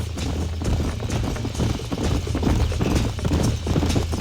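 Horse hooves clip-clop steadily on the ground in the Red Dead Redemption video game, a continuous run of close, even beats from a small herd, with no talking.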